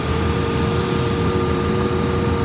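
Steady, smooth idle from the 5.4-liter V8 of a low-mileage 1998 Ford E-350 15-passenger van: a constant low hum with a faint whine above it, close and unbroken, no one talking.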